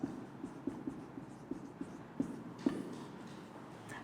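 Chalk or marker tapping and scratching on a classroom board during a botany lesson, a series of faint, irregular short strokes and taps over quiet room tone.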